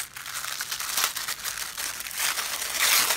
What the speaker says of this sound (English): Look, it's like glassine style paper.